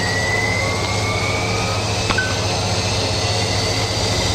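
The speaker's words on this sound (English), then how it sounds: "We'll now switch over and start the right engine." Aircraft right engine starting up, a loud steady roar with a rising whine, close and continuous throughout, no talking.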